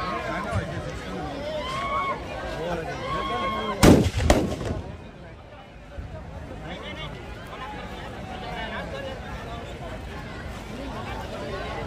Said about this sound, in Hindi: भव्य आतिशबाजी का भी आनंद आप लोग लीजिएगा।